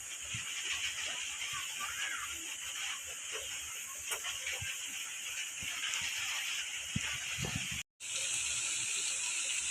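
Pointed gourd paste frying in hot oil in a home kitchen gives a continuous soft hiss and sizzle with faint crackles and scraping, holding steady throughout with a brief dropout near the end.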